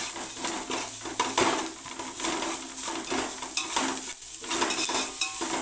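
Ginger-garlic paste sautés in a pan for dum biryani, an uneven sizzle broken by repeated spatula scrapes and metallic clinks against the pan in a loose stirring rhythm.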